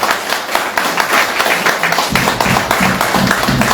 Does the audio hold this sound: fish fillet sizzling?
no